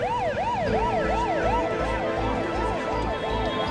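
Close and loud, an ambulance siren stuck in a traffic jam cycles through quick up-and-down wails, steady and continuous over low engine drone.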